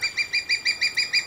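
A young female crowned eagle, roughly fourteen months old, calls in a rapid series of about eight even, high, piping notes, clear and fairly close with no other sound around them.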